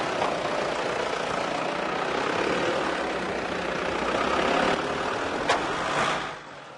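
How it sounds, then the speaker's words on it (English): Four-wheel-drive vehicle climbing a steep slope as too much power spins a wheel, a steady engine drone with broadband rushing noise throughout that fades out at the end. "Watch again as too much power is applied as a wheel spins."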